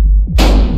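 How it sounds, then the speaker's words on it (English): A single loud, booming shotgun blast in the Buckshot Roulette video game, close and heavy, fired after a short low rumble. "I'm just gonna shoot you once."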